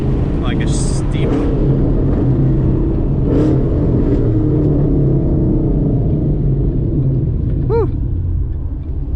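Ford Mustang GT 5.0 V8 with a ghost cam Lund Racing tune, a loud choppy lumpy idle rumbling steadily up close, with a brief shout from a person early on.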